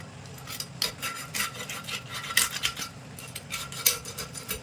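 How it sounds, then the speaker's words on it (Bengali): A knife saws and scrapes through the head of a large boal fish in a series of uneven, rasping strokes and gritty rubs, close and fairly loud. "মাছের মাথাটা কেটে নেবো প্রথমে"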